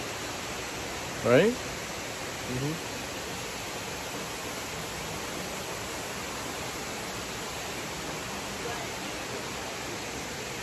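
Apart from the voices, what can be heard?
waterfall in a tropical garden, Big Island Hawaii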